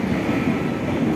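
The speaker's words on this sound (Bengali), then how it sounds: "আমাদের ট্রেন ছাড়ছে, চলে গেল।" A passenger train bound for Sikkim pulls away, heard from inside the carriage as a steady, loud low rumble of wheels and running gear with no clear pauses.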